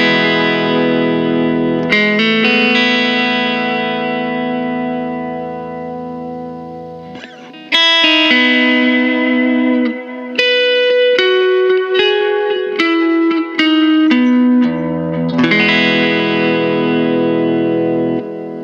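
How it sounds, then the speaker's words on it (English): Electric guitar played through a Line 6 POD Go amp modeler set to a Fender Bassman-style tone, with a transistor tape delay in the chain: sustained chords and picked single-note lines ringing out with echoing repeats and a wash of reverb-like tail, loud and close with no voices. "The transistor tape is now my favorite delay because it acts like a pseudo reverb."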